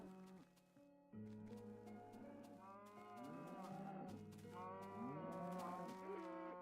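Cows moo over and over in the Minecraft PS3 Edition game, with several overlapping drawn-out calls rising and falling against a steady backdrop of game audio.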